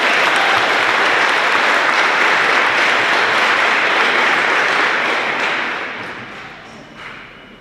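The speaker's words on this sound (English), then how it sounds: "let's get just a real preliminary round of applause for 2025" A crowd of students and families at a middle school continuation ceremony applauds the class of 2025 in a dense, loud, steady round that fades gradually toward the end.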